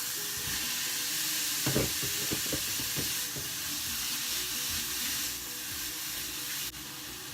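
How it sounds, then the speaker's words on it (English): Chicken and broccoli sizzle steadily in a hot pan, with a few scraping stirs early on and a constant frying hiss throughout. "you're gonna let that saute for a couple minutes"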